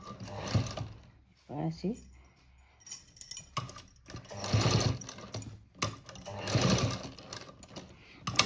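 A sewing machine stitching the edge of a cut-work blouse neck design, running in short bursts of whirring stitches separated by pauses, with someone talking between and over the runs.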